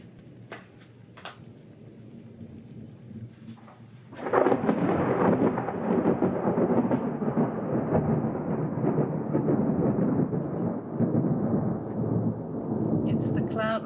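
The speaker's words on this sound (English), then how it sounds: "You can probably hear the thunder." Thunder from a passing storm over a plateau in Colombia, a distant rumble that starts abruptly and rolls on loud and sustained for about ten seconds, with rain-like hiss beneath.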